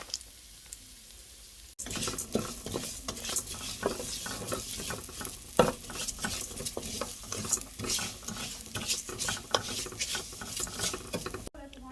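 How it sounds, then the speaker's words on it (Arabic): Vermicelli sizzles in hot olive oil while being stirred: a quiet start, then lively crackling frying with repeated scraping spoon strokes against the pan, steady and close, ending abruptly. "بدأ زيت الزيتون يسخن معايا، هنزل فيه الشعرية"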